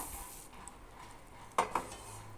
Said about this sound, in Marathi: आपण हे भाजलेले तीळ जे आहे ते याच्यामध्ये घालून घेऊया